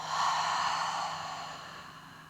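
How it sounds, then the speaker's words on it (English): A slow yoga breath, drawn in through the nose and released as a soft, airy exhale through the mouth, close and gentle, fading over about two seconds with no talking. "Inhale through the nose. Exhale out of the mouth."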